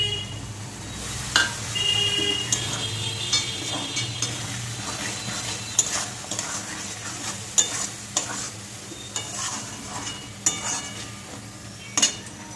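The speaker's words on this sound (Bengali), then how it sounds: "একটু প্লেটটা ধুয়ে জল দিচ্ছি" Water goes into a hot pan of spicy dried fish curry, raising a steady sizzle, while a utensil repeatedly scrapes and clinks against the pan close up.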